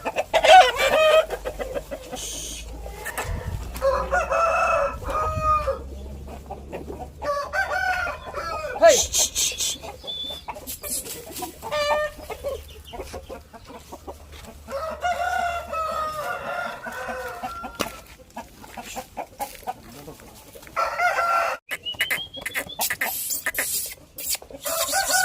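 Chickens clucking and crowing on a poultry farm during feeding, with repeated bursts of hen calls and rooster crows over a low steady hum, moderately close.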